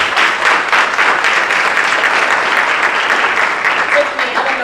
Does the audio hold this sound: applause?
yes